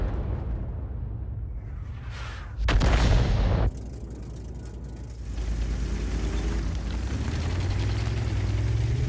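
An M53/M55 self-propelled artillery gun firing in a tank video game, one loud close blast followed by rumbling engine and mechanical noise, no talk over it.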